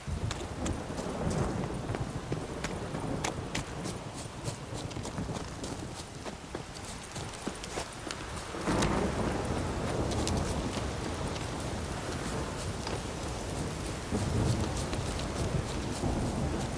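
Steady rain pours in The Witcher 3, a dense hiss running throughout, with sharp cracks and rumbles of thunder and the clip-clop of a horse's hooves mixed in; the downpour grows slightly louder about halfway through.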